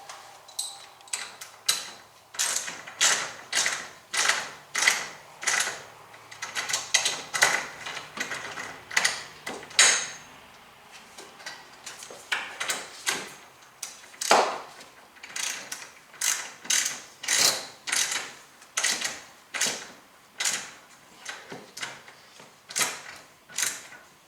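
A ratchet wrench clicks rapidly in repeated bursts while tightening two bolts on a broken garage door spring replacement, the ratcheting close and steady with brief pauses between strokes.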